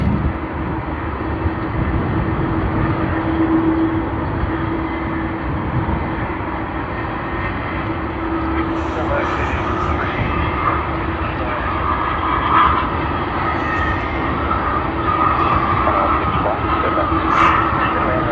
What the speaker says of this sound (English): Yes, that was the Airbus A330-800 of Qantas that we saw.